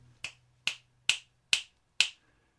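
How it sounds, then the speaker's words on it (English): Five crisp finger snaps come in an even rhythm, each close and dry with a quick decay, over a faint low hum. "I'm snapping my fingers"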